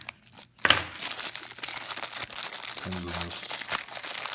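A cellophane bag crinkles and rustles as it is handled while unboxing a small IPV D2 75W vape device, close and crisp in bursts beneath a voice talking.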